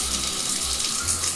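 Water pours strongly from a bathroom shower head in a steady, loud, hissing stream with no one talking.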